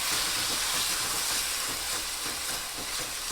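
Tomatoes and minced garlic sauté in a hot pan for a Mexican-style almond sauce, giving a steady, close, bright sizzle that holds evenly throughout with no talking.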